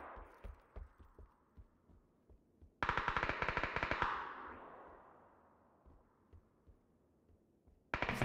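Bursts of rapid automatic gunfire sound in the video game PUBG. A loud close volley lasts about a second, with fainter scattered shots around it and another burst starting at the end.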